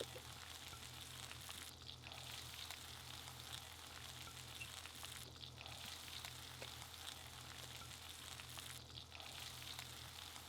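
Ingredients frying in a pan for Anglo-Indian ball curry while being stirred, a continuous soft sizzle with scraping passes at regular intervals, no one speaking.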